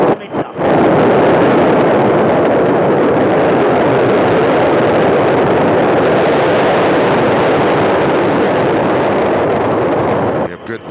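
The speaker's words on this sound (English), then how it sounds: "Liftoff of the Soyuz 29 spacecraft" A Soyuz rocket carrying a crew to the International Space Station lifts off with a loud, continuous broadband engine roar that starts abruptly and holds steady for about ten seconds, with no one talking over it.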